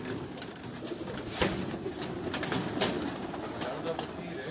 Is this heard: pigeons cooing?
yes